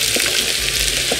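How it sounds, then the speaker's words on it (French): Onions dropped into hot olive oil in a cooking pot set up a steady, close sizzle with soft crackling throughout, and no voices are heard. "Et quand l'huile est chaude, on y met les oignons."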